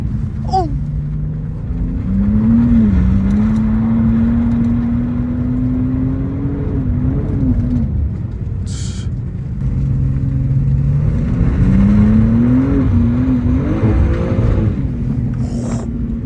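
A BMW G87 M2 is pushed sideways along a wobbly, bumpy road, its engine droning loud and close as the revs rise, fall and surge again through repeated slides.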